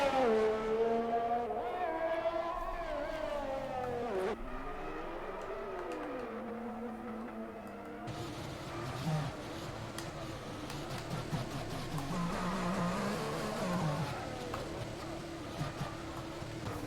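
F1 race cars roar through a racing video game, their engine whine rising and falling in pitch for several seconds before giving way to a denser, continuous blend of several engines, all loud and close.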